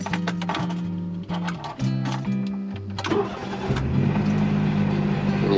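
A Smart Fortwo 450 or 451 engine cranks and fires up, loud and close, with the starter's strained whirring giving way to a steady idle hum.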